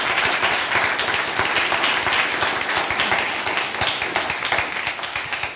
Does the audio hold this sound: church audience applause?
yes